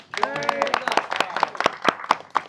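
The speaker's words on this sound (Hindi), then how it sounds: "तो सर के लिए एक ताली तो बनता ही है" A small group claps for the host at the end of a tea factory tour, with sharp, irregular hand claps throughout, close by. Voices talk over the clapping.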